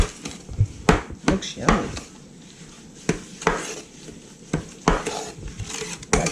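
Blueberries and lemon juice are mixed in a metal pot for canning, with irregular close clanks and scrapes of a spoon against the pot; a voice briefly comments over the stirring.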